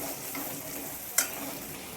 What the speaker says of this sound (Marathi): आता मस्त परतून घेऊ